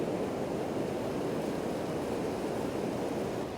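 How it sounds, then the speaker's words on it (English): Wind-driven surf slams a badly eroded beach beside an amusement pier in North Wildwood, New Jersey, a steady, loud roar of crashing water and gusting wind buffeting the microphone without a break. "it is getting slammed with water"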